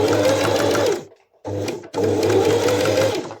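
A sewing machine runs fast and loud up close in a steady whirring drone, stops briefly, then restarts and keeps running, with no one speaking.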